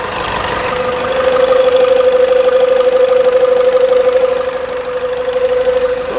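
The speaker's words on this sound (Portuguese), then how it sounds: "Olha que melodia tá esse motor." A Toyota Hilux in military use, recently fitted with a new steering box, idles steadily with a smooth mid-pitched hum and a faint tonal whine, swelling slightly louder in the middle before easing back; no one speaks.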